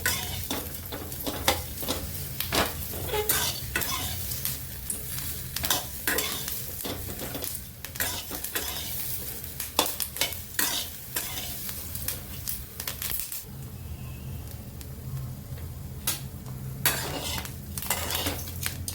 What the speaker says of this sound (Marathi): शिमला मिरचीला थोडेसे डाग पडे पडेपर्यंत आपल्याला छान अशी भाजून घेते